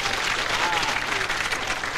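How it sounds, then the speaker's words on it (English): A children's audience at a 1988 live show claps loudly in a dense, continuous burst of applause. "Give her a big clap, boys and girls."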